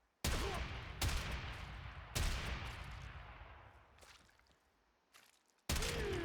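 Hek shotgun blasts in a video game, fired at an enemy's chest: several loud separate booms spaced about a second apart, each trailing off in a reverberant decay, with pauses between.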